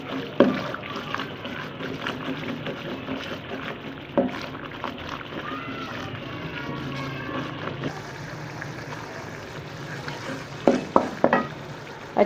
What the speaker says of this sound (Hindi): 5 मिनट हो गए हमें मसाला भूनते हुए और ये मसाले से घी अलग होना शुरू हो गया।